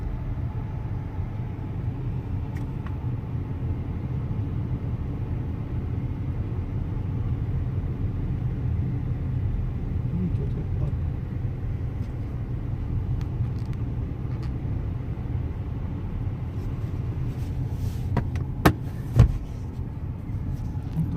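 Steady low engine and road rumble from inside a moving car on a park road, constant and even throughout, with a couple of brief clicks near the end and no talking.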